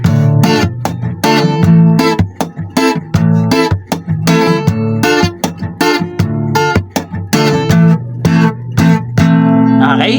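Guitar strummed in a reggae pattern on the 4th string downward, sharp choppy offbeat strums in a steady rhythm, loud and close with no talking.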